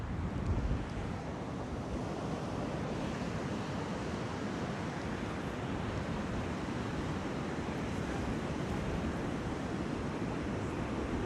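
Steady roar of Atlantic Ocean surf at Rockaway Beach, Queens, mixed with gusting wind buffeting the microphone, continuous and fairly loud, with no voices.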